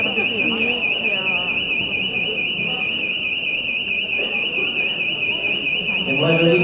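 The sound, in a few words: smoke detector alarm ringing in lecture hall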